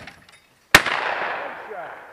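A single sharp shotgun blast at a skeet target, loud and close, with a long ringing decay rolling out afterward across an open outdoor range.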